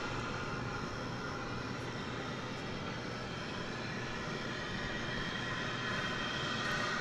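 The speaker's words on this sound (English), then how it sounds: "American Flight 1098 and Airbus A321" An American Airlines Airbus A321 on flight 1098 at DFW Airport produces a faint, even engine rumble and hiss that stays constant throughout, with no voices present.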